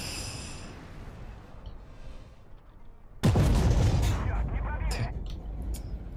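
An SU-152 tank gun firing in the game Armored Warfare, one sudden heavy boom that cuts in midway and leaves a loud rumbling roar after it.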